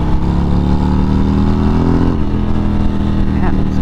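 A heavy motorcycle accelerates with a loud, close engine drone that holds steady and then shifts in pitch partway through as it pulls.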